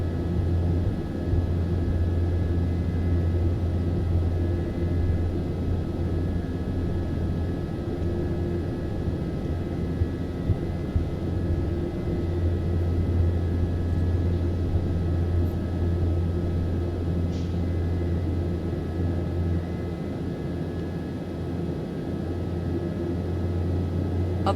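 P180 twin turboprop engines in takeoff mode in Microsoft Flight Simulator 2024, a steady, loud, low droning roar with a constant hum running unbroken throughout, with no talking.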